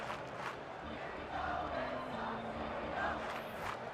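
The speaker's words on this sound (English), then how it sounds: "The crowd is really rallying behind their team, but they have a long way to go to come back in this one." Crowd noise from the Major League Baseball 2K7 video game during a New York Yankees vs Boston Red Sox matchup, a steady stadium roar that swells slightly in the middle and stays continuous throughout.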